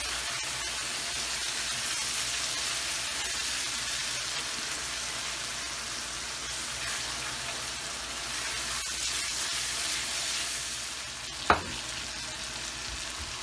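Dry spices sizzle in a karahi while frying for karahi kabab, a steady hissing crackle with faint stirring and one sharp clatter near the end.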